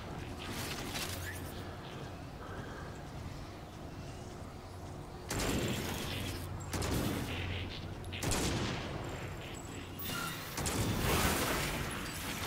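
Bursts of rapid gunfire in the VR game Stormland crackle in several loud volleys separated by quieter stretches of rumbling background noise.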